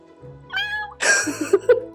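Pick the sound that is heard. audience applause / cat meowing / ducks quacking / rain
cat meowing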